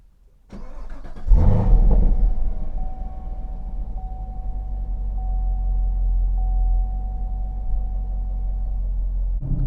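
A 2021 Chevrolet Camaro SS 1LE V8 rumbles and revs as it pulls away, a loud burst followed by a deep, steady low drone heard from inside.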